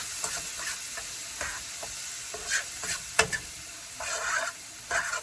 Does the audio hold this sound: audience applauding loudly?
no